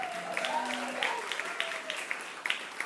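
Audience applause at a storytelling night in Bremerton, Washington: scattered, fairly quiet clapping from a modest crowd, running under a speaking voice.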